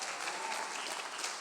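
A church congregation claps together in praise during a worship service, a dense, steady wash of applause from many hands for a brief moment, with no clear speech.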